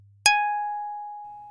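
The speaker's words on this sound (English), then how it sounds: "Pluck." A single synthetic pluck test tone played from a TDK D cassette: a sharp attack followed by a clear, bell-like ringing pitch that decays slowly, with a faint low hum underneath.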